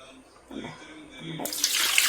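Water pours into an idli steamer pot as a strong, close rushing splash that starts midway and runs to the end, after brief low murmurs.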